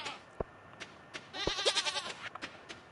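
Goat bleating in the Stardew Valley farming video game, a wavering, bleat centered around the middle, with short clicky game sounds spaced before and after, moderately loud and alone without talk.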